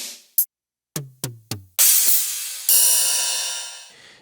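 Electronic drum kit "Machine", user kit 19 on a Ludwig Total Percussion Pad: a short tick, then three quick booming electronic kick hits, followed by a long noisy crash and another sustained cymbal-like wash, close and alone.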